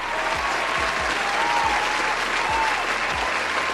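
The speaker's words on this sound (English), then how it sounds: "Give him a round of applause" A crowd at a Dolton town meeting gives a round of applause, with loud, dense, continuous clapping and a few faint voices mixed in underneath.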